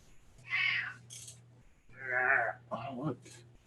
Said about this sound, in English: Oh yeah, he's purring.